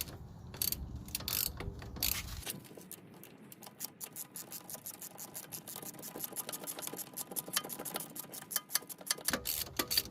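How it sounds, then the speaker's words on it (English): A bolt is spun into the front wheel hub of a Buick or Chevy during a hub bearing replacement, making a fast run of close metallic ratcheting clicks with brief pauses and no speech. "let's spin this bolt in and make sure get the hub lined up to the hole"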